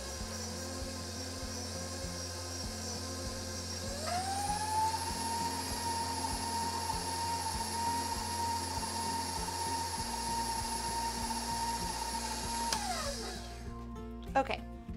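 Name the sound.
electric mixer creaming vegan fat with sugar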